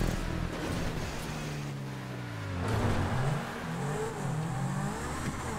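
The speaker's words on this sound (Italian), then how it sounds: "sprigionare il rombo della Zentorno" Engine roar of a Zentorno supercar in a racing video game, a steady revving drone with shifting pitch sweeps that swell midway, loud and continuous throughout.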